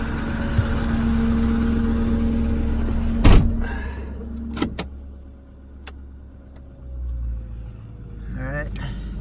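A 2008 Ford F550 bucket truck idling and pulling off, a steady low engine rumble with a door thud and clunks, then the engine note rising as it moves ahead.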